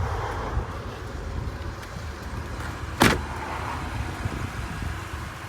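Motor whirrs softly under a steady cabin hum as the driver's-side power window of a 2004 Mercury Monterey minivan drops, with one sharp clunk partway through.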